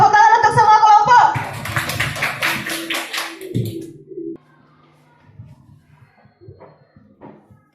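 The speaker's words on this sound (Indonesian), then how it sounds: "tepuk tangan untuk semua kelompok" Children in a classroom clap together in a quick burst for their groups, a rhythmic, fairly close patter lasting a couple of seconds, with a voice before it and scattered soft taps and murmurs afterward.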